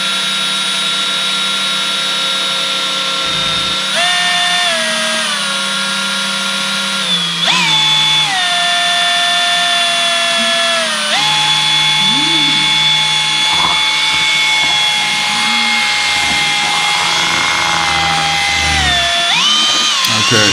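A power drill with a mixing paddle stirring two-part epoxy for a countertop coat, a loud, continuous whine that shifts pitch several times as the speed changes and runs close throughout.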